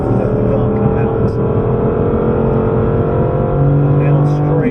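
BMW M3 on track at Goodwood, engine droning steadily through a corner in third gear, with a sustained loud engine note underneath and talk in the cabin over it.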